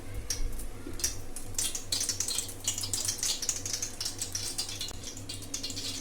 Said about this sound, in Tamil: இதில் கொஞ்சம் நான் எண்ணெய் ஊற்றிக்கிறேன்.